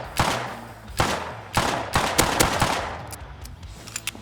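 An MG5 machine gun fires in the survival game Rust, loud and fairly close, in a string of short, irregular bursts with brief gaps between them, each burst sharp and crackling.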